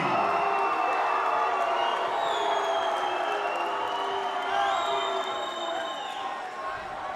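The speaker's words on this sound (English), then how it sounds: "The crowd is going absolutely wild here at this sold-out audience at River City Casino in St. Louis, Missouri." A sold-out crowd at a fight event at River City Casino in St. Louis, Missouri roars with cheering, whoops and clapping, a loud sustained wash of noise with shouts and whistles rising over it.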